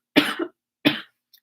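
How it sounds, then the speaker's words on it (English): Two sharp, close coughs from a person, evenly spaced about half a second apart, each a short harsh burst, with silence around them. "now all of a sudden I feel like I really have to cough a lot"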